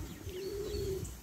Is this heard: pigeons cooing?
yes